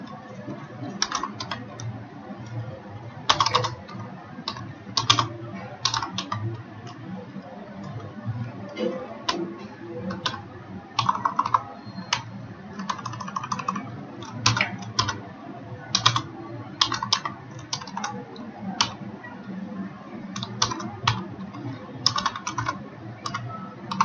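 Steady typing of C++ code for a Sudoku solver on a computer keyboard, with irregular bursts of sharp key clicks and short pauses, close and fairly loud, and barely any speech.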